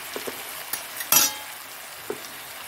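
Cauliflower with salt and turmeric frying in a pan, a soft close sizzle with scattered stirring scrapes and one brief louder burst of spatter, no voices.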